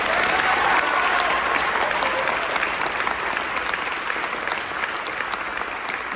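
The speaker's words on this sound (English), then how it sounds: "Let's give a round of applause for Stinson." Audience applause after a school band concert, a dense, loud, continuous wash of clapping from a large crowd that holds steady and eases only slightly.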